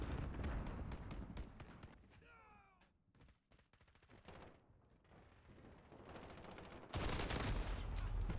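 AK rifle fire in the Call of Duty Modern Warfare video game, with dense rapid bursts and booming shots, loud and continuous across the stretch, dipping briefly midway, with faint talk underneath.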